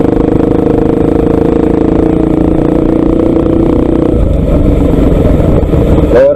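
Pulsar 200 NS motorcycle fitted with an aftermarket exhaust and no dB killer, running loud and close with a steady throaty engine note that shifts in character partway through, alone without talk.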